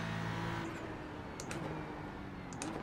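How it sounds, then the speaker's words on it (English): A GT3 race car in iRacing at Watkins Glen accelerating hard out of a corner, a steady engine drone that sits fairly low and even in level, with no talk. "Now hard on the throttle using all the exit."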